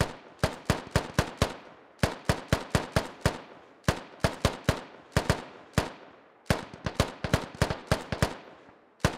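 Gunfire in a military video game: rapid bursts of sharp shots in quick clusters, several rounds each, repeating with short pauses, loud and close.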